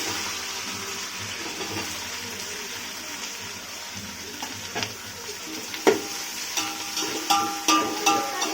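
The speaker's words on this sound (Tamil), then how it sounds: "வெங்காயம் நல்லா வதங்கிச்சு" Half a kilo of chopped onions sautéing in oil in a pan for a biryani and chicken gravy, a steady close sizzle with stirring scrapes and clinks that grow busier toward the end, no voices.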